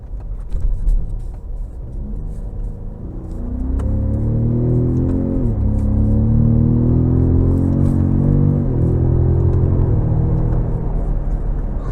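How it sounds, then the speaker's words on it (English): A 2018 Ford F-150 Raptor pickup with a 10-speed gearbox revs hard in sport mode, a low rumble that swells into a loud rising engine roar with stepped climbs as gears change, heard close and alone. "this Raptor loves to rev hot, even with this 10-speed"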